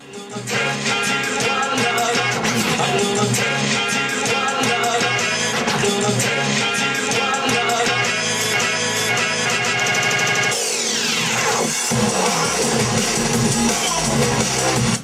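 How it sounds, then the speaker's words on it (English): A dense, full-band recorded bossa nova track plays loudly throughout from a CDJ, then near the end the sound dips and sweeps down as if spun back before resuming. "So this is a fake bossa nova we recorded."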